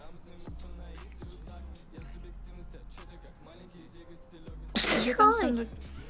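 A single loud, sharp sneeze bursts out near the end, standing above a group of people chatting at a party.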